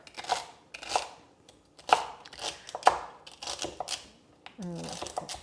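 A knife chops through three celery stalks together on a board, giving a series of sharp, crisp cuts in an uneven rhythm, with brief pauses between strokes and a short scrape at the end.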